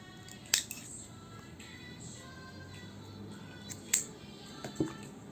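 Scissors cut a piece off a plastic drinking straw, giving three sharp, close snips spread over a few seconds in an otherwise quiet room.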